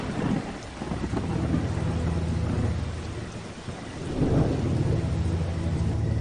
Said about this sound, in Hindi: बाहर बारिश हो रही है और लाइट भी नहीं है